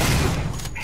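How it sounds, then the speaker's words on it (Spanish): A dense burst of overlapping gunfire in the video game Alien: Isolation, loud and close, with a booming low end that carries through the whole moment. "un par de disparos certeros los matará"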